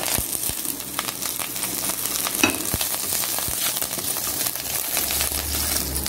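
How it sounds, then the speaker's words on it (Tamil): Curry leaves fry and crackle in a pan while being roasted dry for Tirunelveli-style idli chilli powder, a steady close sizzle with scattered sharp pops and a few stirring clinks, no talking. "கருவேப்பில் உள்ள ஈரப்பதம் போகிற வரைக்கும் நல்லா கொஞ்சம் ஒரு பொருந்தும் வறுத்துக்கலாம்"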